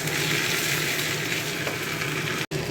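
Tomatoes with ginger and green chili fry in a pan, a continuous soft sizzle and crackle at moderate level with no voices.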